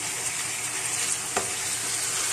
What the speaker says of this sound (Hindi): और अब हम इसके अंदर टमाटर ऐड करेंगे और टमाटर इस कढ़ाई में ज़्यादा जाते हैं।